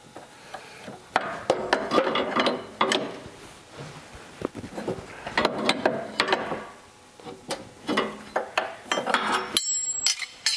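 A wrench clicks and scrapes against metal while tightening an oil pipe fitting on a Porsche, with a backup wrench on the oil cooler, giving scattered close knocks and rubbing clatter across the clip.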